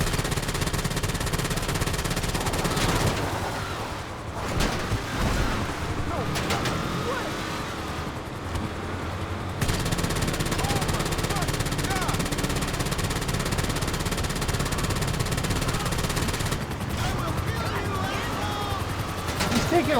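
Gunfire in GTA 5 Online pours in as sustained automatic bursts and rattling shots layered over vehicle engine rumble, loud and nearly continuous, with a voice talking now and then.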